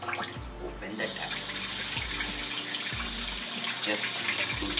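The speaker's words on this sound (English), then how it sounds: "open the tap." Water runs steadily from an open tap into a sink, a continuous broadband rush heard close up, with faint low thumps and movement underneath and no talking.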